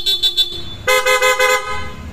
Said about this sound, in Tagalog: Tapos yung busina nito, PIAA na may selector.